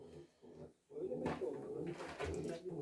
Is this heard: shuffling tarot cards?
no